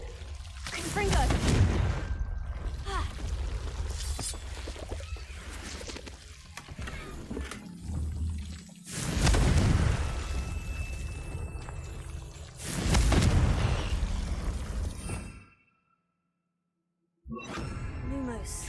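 Confringo fire-curse explosions burst in Hogwarts Legacy, three loud separate blasts spaced several seconds apart with crackling debris between them, ending in a short silence before another sound returns.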